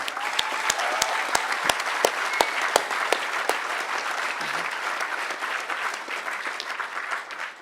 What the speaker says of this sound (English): Could we just give him another round of applause real quickly?